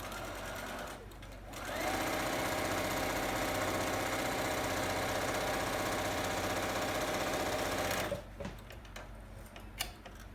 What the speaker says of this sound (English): Flip it over and sew the other 9-inch side, 1/4-inch seam.